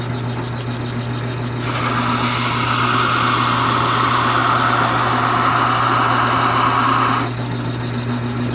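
Rotary power sander working across wood along the grain for a stool build, a steady loud whirring drone with a higher grinding whine that swells mid-way then drops back, no talking.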